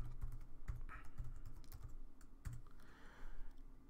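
A computer keyboard is typed on while a sketch is named in Creo Parametric CAD software: a short burst of crisp, close keystrokes in an uneven rhythm, fairly quiet, with no voice.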